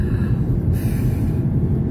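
A convoy truck rumbling along the road, a loud, continuous deep engine and road rumble filling the whole short stretch with no voices.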